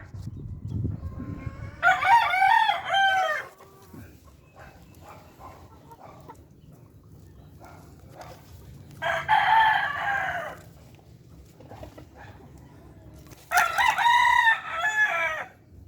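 A rooster crows three times in a farmyard, each long cock-a-doodle-doo loud and close, spaced several seconds apart over low background rustle and faint farm noise.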